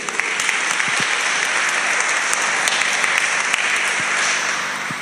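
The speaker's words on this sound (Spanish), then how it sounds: "Démosle un fuerte aplauso al Señor." A church congregation claps loudly and steadily, dense sustained applause from many hands filling the room for the whole stretch.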